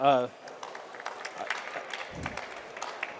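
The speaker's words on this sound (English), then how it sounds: "if we could give Tony a round of applause" A brief voice gives way to a steady wash of scattered clapping from a small audience, moderately loud and sustained throughout.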